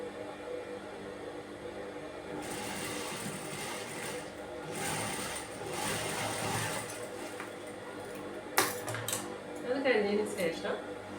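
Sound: sewing machine stitching a princess nightie

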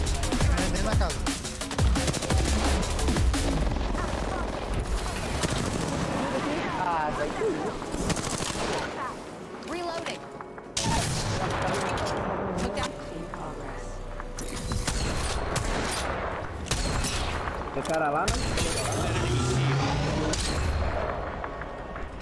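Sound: gunfire in the video game Apex Legends

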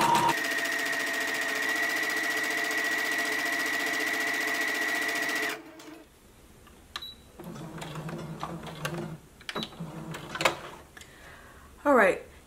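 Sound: sewing machine stitching dress fabric

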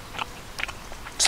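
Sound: biting into crispy bacon at a campsite

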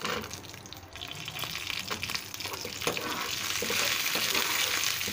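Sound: chana dal frying on stove, medium flame

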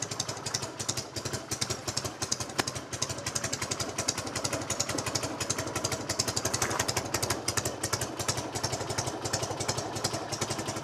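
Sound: classic motorcycle engine idling while warming up

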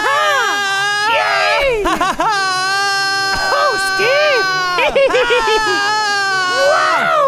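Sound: children screaming together

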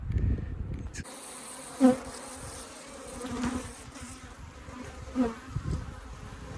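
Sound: honeybees buzzing around a beehive

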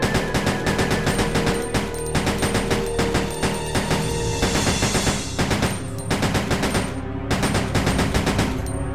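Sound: handgun burst fire in Resident Evil Survivor 2 video game

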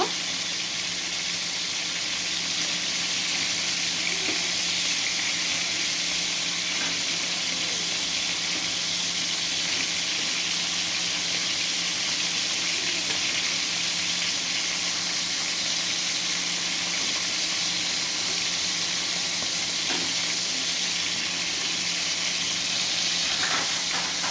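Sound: shrimp frying in oil, being flipped

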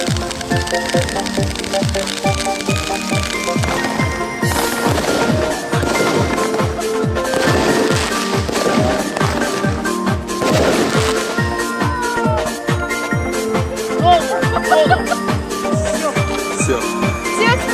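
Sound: festive New Year fireworks being set off

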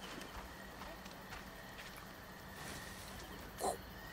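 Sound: horse hooves clip-clop, video game Assassin's Creed Origins

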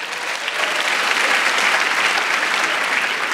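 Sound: studio audience applause

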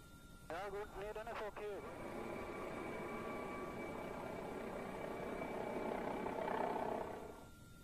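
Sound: police helicopter flying over a restricted area

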